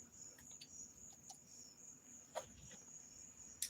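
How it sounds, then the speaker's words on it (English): Crickets chirping at night as a faint, steady high-pitched trill, with a few soft clicks and ticks scattered over a quiet background. "the crickets are good. Look, they are chirpy"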